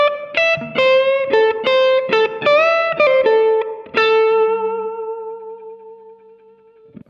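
A slow blues lick on electric guitar with string bends, in a shuffle feel in A, rings out through effects: a run of distinct plucked notes with smooth upward bends, then a long bent note that sustains and slowly fades.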